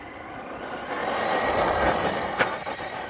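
Maverick Quantum2 XT 3S RC truck, bone stock, running at full throttle off-road: a steady high-pitched motor whine with broadband rush that swells midway, plus a brief sharp knock near the end.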